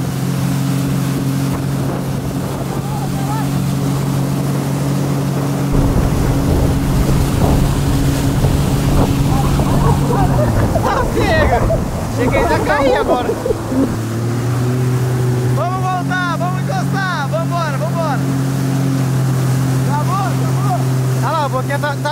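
A personal watercraft engine drones steadily and loudly, surging as the throttle opens, with wind and splashing water and people talking over it.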